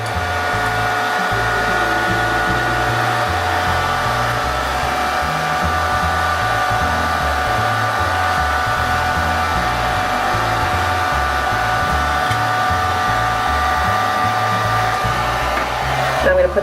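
A heat tool set to low heat blows a continuous, fairly loud airy whoosh with a steady motor hum while warming a large piece of plastic, holding steady until a short clatter at the end.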